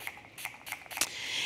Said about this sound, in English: So you're just gonna spray.